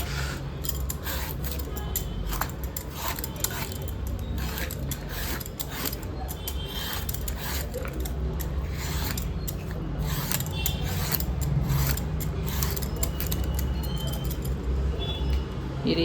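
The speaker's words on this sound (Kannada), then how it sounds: "ಈ ರೀತಿಯಲ್ಲಿ ಸಿಪ್ಪೆ ಹರ್ಕೊಂಡು ಕಟ್ ಮಾಡ್ಕೊಳ್ಳೋಣ" Skin being peeled and scraped off a raw green banana in a home kitchen, a close series of short rasping, scratchy strokes repeating irregularly over a steady low background hum.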